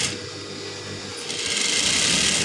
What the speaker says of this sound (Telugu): ఇక్కడ నుంచి చేతి లూజ్ నుంచి క్రింది లూజ్ వరకు బార్కి కుట్టు వేసుకోవాలి